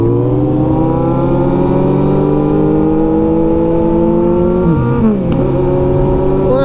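A Kawasaki Z900 and a Suzuki Hayabusa accelerate together, their engines droning loud and close as the revs climb steadily, then dip briefly at a gear change before rising again.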